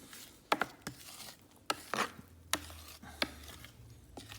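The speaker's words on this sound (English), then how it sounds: "We're going to stir it through" A spoon stirring and scraping through a thick, jelly-like homemade discus fish food mixture in a bowl, with irregular sharp knocks and smears close by, no voices.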